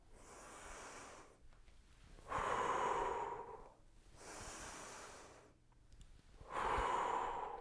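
A person takes slow, deep breaths during an ankle and balance workout, three long airy inhales and exhales in a steady rhythm, close and fairly soft, with no talking.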